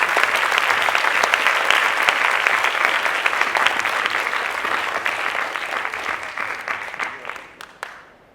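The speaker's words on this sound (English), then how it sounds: "Got a huge round of applause for all the gold certificates" A hall audience at a Year 6 school graduation claps in a huge, dense round for gold certificate winners, loud and sustained for several seconds before thinning out at the end.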